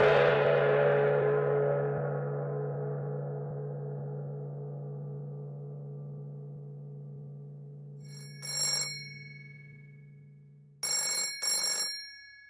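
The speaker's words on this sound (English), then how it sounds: "Miss Goddard, answer the phone" A telephone in a radio drama rings out, starting with a strong struck tone that decays slowly over several seconds, then three short bright bell bursts near the end, with no voices.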